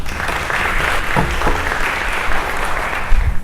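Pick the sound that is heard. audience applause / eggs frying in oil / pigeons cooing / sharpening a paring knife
audience applause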